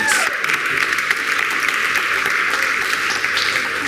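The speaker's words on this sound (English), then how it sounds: "Let's clap our hands and give some praise" An audience at a spirited gathering claps hands in praise, a dense, continuous patter of applause holding at steady strength throughout, with no speech over it.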